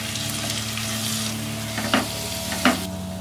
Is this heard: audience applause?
no